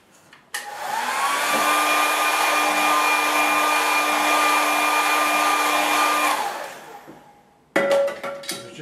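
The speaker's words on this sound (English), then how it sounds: "So that's the beauty of having the air dryer." A hair dryer blows over a watercolour painting, switching on with a click and running as a steady loud whine for several seconds before winding down, followed by clattering handling noises.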